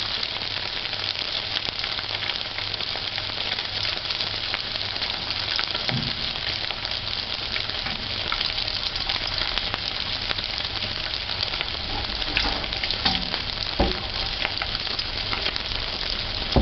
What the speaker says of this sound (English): before you put the fish in the oil, remove the seasoning